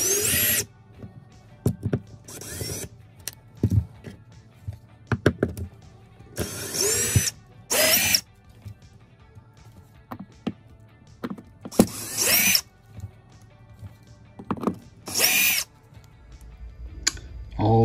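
A power drill backs screws out of the wooden cleats holding a U-dinette table in an RV. Several short, sharp whirring bursts sound up close, separated by quiet gaps.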